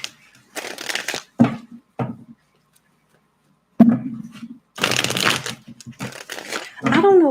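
Playing cards being shuffled by hand in bursts of dry riffling and crinkling, with pauses between, fairly close, with a few soft vocal sounds in places.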